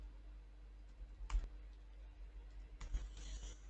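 Computer keyboard keys tapped in two short bursts, a few quick clicks each with a pause between, faint and close against a low steady hum.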